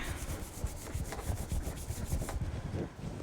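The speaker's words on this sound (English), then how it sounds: "I'm going to rub it on the back." Steady, soft rhythmic rubbing of glued paper pressed onto the back of a small handmade mini notepad holder, close and quiet with repeated strokes and no voices.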